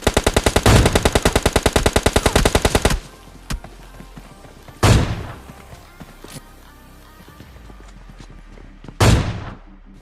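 Gunfire in the mobile battle-royale game PUBG Lite: a long rapid automatic burst of evenly spaced shots, then a quieter stretch with two single loud booming shots spaced several seconds apart.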